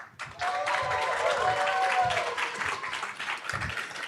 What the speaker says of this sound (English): now we would need to hear a roaring applause for our sponsors today